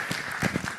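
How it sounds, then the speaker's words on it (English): Brief burst of applause from a privacy symposium audience as a presenter walks to the podium, with scattered claps rising and falling over a short moment. "let's give him a round of applause as he comes to the podium"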